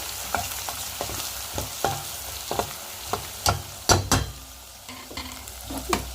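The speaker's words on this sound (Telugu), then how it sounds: "పసుపు వేసుకున్న తర్వాత కారం కూడా వేసేసుకొని మొత్తం కలిపి వేసుకున్నాం" Brinjal and tomato chutney fries in a pan with turmeric and chili powder, a steady sizzle broken by regular scraping stirs of a spoon, close and moderately loud with no talking.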